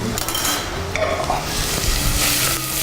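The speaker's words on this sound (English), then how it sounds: "I just want to mix it up in my pot so it doesn't stick together" Pasta stirred in a pot of water, with steady clattering and scraping of a utensil against the pot over a continuous wet churning, close and fairly loud throughout.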